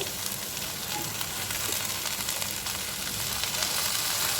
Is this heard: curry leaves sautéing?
yes